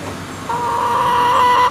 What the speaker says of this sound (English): These are the country chickens.